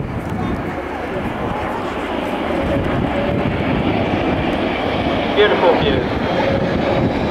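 A Hong Kong Airlines Boeing 747-400 makes a slow flypast at about 140 knots down the runway centre line in flap 10 configuration, its steady broad jet roar running throughout while someone talks over it.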